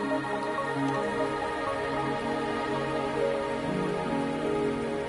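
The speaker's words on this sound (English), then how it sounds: "Are you trapped here by the rain?" Steady rain falling in the video game Wuthering Waves, a continuous soft hiss of drops on surfaces with faint layered ambience underneath, with no voices.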